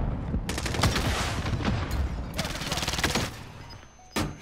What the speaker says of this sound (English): I'm getting shot in the back now